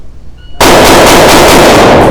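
After a brief quiet moment, a Sig P322 or Taurus TX22 Competition .22 pistol abruptly erupts in a very loud, rapid string of shots that blur into one sustained blast.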